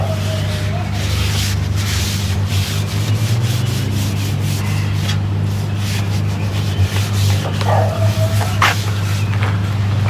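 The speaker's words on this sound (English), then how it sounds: "Don't want anything to rust, so wipe it all the way around, inside and out." Rag rubs in steady strokes along the inside and outside of a Blackstone griddle, coating the surfaces, over a constant low hum with two short squeaks.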